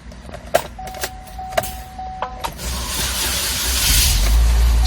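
A 2013 Chevrolet Orlando running on LPG cranks and starts, with clicks and a steady tone before the engine catches and settles into a louder, broad idle roar toward the end.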